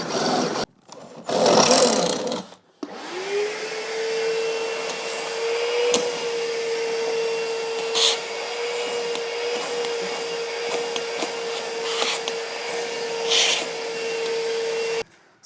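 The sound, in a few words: power drill drilling holes in car B-pillar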